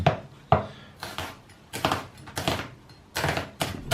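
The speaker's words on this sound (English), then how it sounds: "what you want to do is start chopping your onion." A knife chops an onion on a wooden cutting board while prepping a Chinese takeaway-style chicken curry: a series of sharp, close knocks in an uneven rhythm, with no talking.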